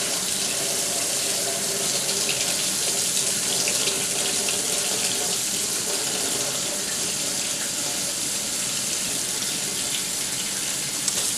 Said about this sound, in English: We're going to turn the water on.